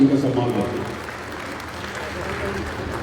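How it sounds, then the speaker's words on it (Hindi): Applause from an audience at a Haryana Red Cross Society awards ceremony honoring a plasma donor for service during the COVID period, a steady wash of clapping that is loudest at the start with talking mixed in underneath. "जोरदार एक बार इनकी तालियों से उनका सम्मान करते।"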